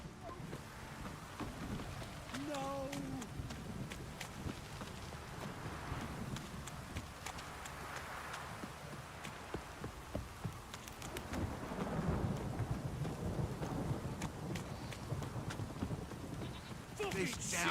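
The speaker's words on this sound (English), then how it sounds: "This downpour's a bastard, it is." Rain falls steadily and thunder rumbles in a stormy scene in the video game The Witcher 3, with low, rolling thunder swelling in the second half, while faint voices talk briefly early on.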